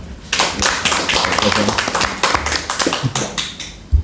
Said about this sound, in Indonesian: sekali lagi kita tepuk tangan